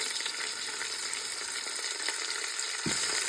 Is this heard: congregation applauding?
no